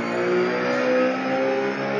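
A race car in a racing video game runs at full throttle at Suzuka, giving a loud, sustained engine tone that holds steady and rises and falls slightly across the whole two seconds.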